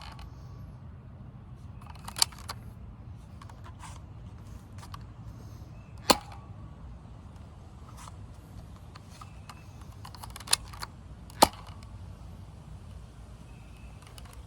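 Nerf Fire Strike blasters shoot blue Elite foam darts, producing a handful of quiet, sharp snapping clicks spaced several seconds apart against a faint, hushed room background.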